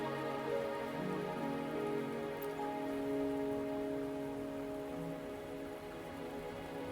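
Steady rain falls in the video game Wuthering Waves, a continuous close hiss of drops spattering on surfaces with no speech over it, holding an even loudness through the whole stretch.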